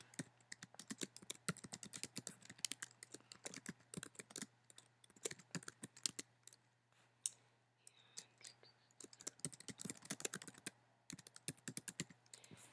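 Rapid typing on a computer keyboard, close and crisp, with bursts of clicking keystrokes separated by brief pauses over a low steady hum.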